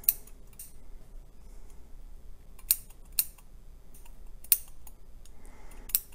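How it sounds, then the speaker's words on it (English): Small snipping clicks of scissors cutting the backing of faux fur come at irregular intervals, close and quiet, against a soft background hiss. "Just keeping my tips of my scissors right there underneath the backing."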